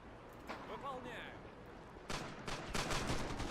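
Gunfire from anti-tank rifles crackles in a Men of War: Assault Squad 2 battle on the 1941 Moscow defense line, with sharp bursts starting midway and layering into repeated loud reports, after faint whistling tones early on.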